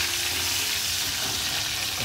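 Spices crackle and sizzle in hot oil as tempering (phodni) is poured for a spicy crab curry (rassa) in a home kitchen, a steady close, dense frying hiss with no break and nobody talking.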